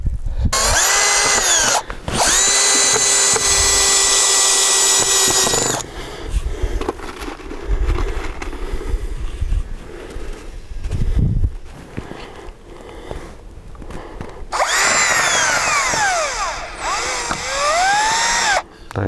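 A power drill drives screws into wooden boards while garden beds are built for conifers, giving loud whirring bursts that rise and fall in pitch, with knocks and handling noise from the wood between the runs.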